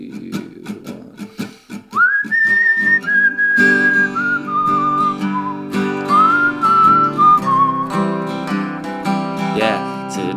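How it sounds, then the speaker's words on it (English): Someone whistles a country song intro, a sustained melodic line of held and gliding notes over a loud, steady accompaniment with rhythmic plucked-string attacks at the start. "I'll whistle through the intro."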